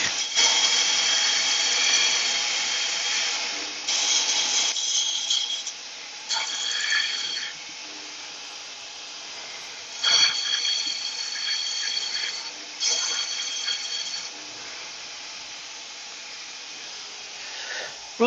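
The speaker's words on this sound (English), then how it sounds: "I'll just pop this on the sander" A power sander runs in a workshop with a whining motor hum that comes in bursts of several seconds and drops back between them. It is moderately loud and close, with no speech.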